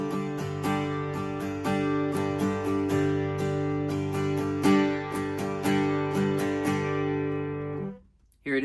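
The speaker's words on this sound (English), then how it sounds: "The next strum pattern is kind of an upbeat pop strum." Acoustic guitar strummed in an upbeat pop pattern of steady down and up strokes, ringing chords sounding close and loud, played alone with no talk, cutting off sharply near the end.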